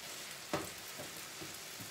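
Onions fry in a skillet with a steady, soft sizzle, broken by a few brief scrapes and presses of a spatula against the pan's bottom and sides.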